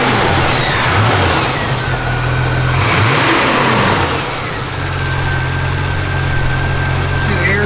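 A 1971 Chevrolet Chevelle wagon with an automatic overdrive transmission runs close by, its engine holding a steady idle with a couple of light revs and a constant low rumble, while a voice speaks briefly over it.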